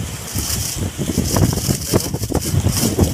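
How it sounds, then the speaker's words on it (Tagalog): Strong southwest monsoon wind during Typhoon Carina, gusting and buffeting loudly against the microphone in an uneven roar that rises and falls, heard alone without voices. "Malakas na yung hangin, no?"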